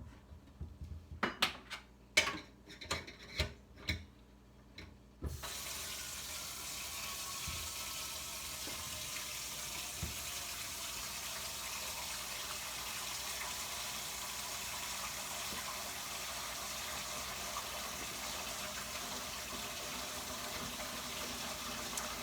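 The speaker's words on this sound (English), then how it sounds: "So I'm going to fill up both sides of the sink." A kitchen sink with a newly replaced Moen garbage disposal fills on both sides, opening with a few clinks of dishes, then a steady, moderately quiet rush of tap water that runs on unbroken.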